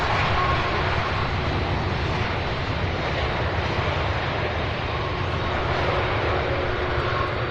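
A Boeing 767 jet at the UPS Worldport at night, a loud, steady engine roar with a dense low rumble that holds evenly throughout, no talking over it.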